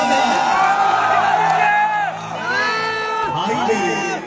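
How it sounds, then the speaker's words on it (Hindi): Loud crowd at a Bhojpuri stage show in Warisaliganj cheers, whoops and shouts in a steady wash of voices with no pauses, the noise dipping briefly midway before swelling again. "जोरदार ताली हो जाए"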